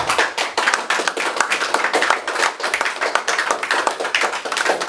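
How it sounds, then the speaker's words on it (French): A church congregation claps loudly for Jesus during a worship service, with dense, sustained applause from many hands close by and no break. "Acclamons très fort pour Jésus"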